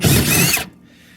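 A power tool or ratchet backs out 10mm bolts on a Kawasaki KRX 1000, a loud, close mechanical whir that stops abruptly, leaving quiet room tone, with no talk over it.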